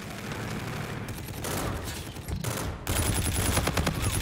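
Sustained video game gunfire rattles in dense, rapid bursts, loud and close, growing heavier and more continuous toward the end with no talk over it.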